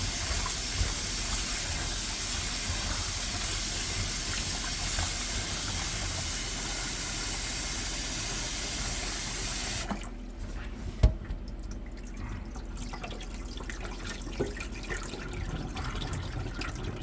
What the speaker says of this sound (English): Alright, so I'm going to rinse my onion real quick.